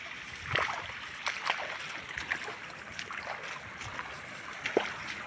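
Water from a bore well pipe splashes and trickles steadily onto a wheat field, with irregular louder spatters rising above a constant wet rushing, close by.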